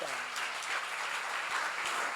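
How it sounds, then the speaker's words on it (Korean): A church seminar audience applauds, a dense, even wash of clapping that holds at a moderate level for a couple of seconds without talk. "박수."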